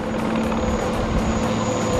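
A military helicopter at the Pakistan Day parade air show, a steady loud rotor drone with faint rhythmic blade chop and a high engine whine throughout.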